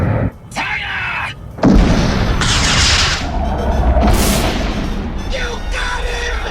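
Artillery cannon firing from a Decepticon ship in the 1984 animated Transformers series: a heavy boom kicks off a sustained, rumbling barrage of blasts and roaring effects, with voices shouting over parts of it.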